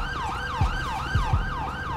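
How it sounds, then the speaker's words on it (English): An ambulance siren in GTA 5, from a Ford F-750 ambulance, wails in steady rising and falling sweeps with a few low thumps beneath, loud and continuous. "Here comes the ambulance somewhere"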